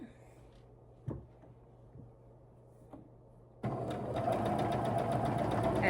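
Sewing machine stitching a quilt block a quarter inch from the marked lines: a few soft clicks and thumps, then a steady, loud mechanical whir of the machine running continuously.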